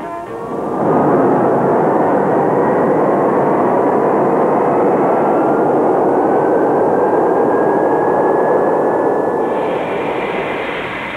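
Lockheed C-141 Starlifter jet aircraft, B model, engines roar steadily and loudly for the whole stretch, with a rising whine climbing above the broad rumble and no voices.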